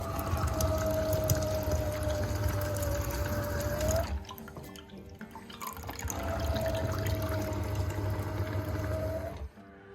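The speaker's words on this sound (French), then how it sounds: "Je vais maintenant extraire le jus de 2 oranges." Two oranges are squeezed for juice in a home kitchen. A steady wet, liquid hiss runs in two long stretches with a short quieter gap between them, close and fairly loud, and no one speaks.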